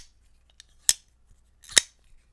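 An expensive $720 EDC pocket knife snapping open and shut, two sharp, loud metallic clacks spaced about a second apart in a quiet room, with faint small clicks between them.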